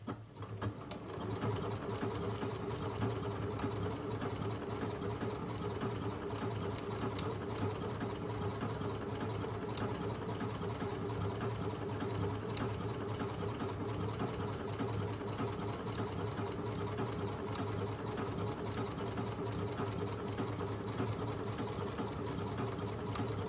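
A Janome Memorycraft 9900 sewing machine runs a cross stitch, a fast, even mechanical hum and rapid needle clatter that stays steady and close for the whole stretch, with no talking.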